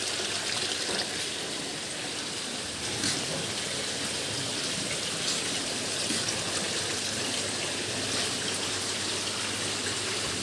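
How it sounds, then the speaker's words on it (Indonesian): Water flowing steadily through a home soft-shell crab farming tank, a continuous, even rushing wash that holds at a constant level for the whole stretch with no voices. "air yang mengalir tidak boleh terlalu deras"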